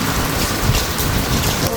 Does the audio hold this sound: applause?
no